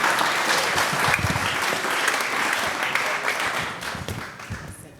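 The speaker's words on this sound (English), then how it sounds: "Once again, a round of applause." Sustained, loud applause from an audience welcoming guests at a Garden Room 2020 mental health and music event, with dense clapping continuing steadily throughout.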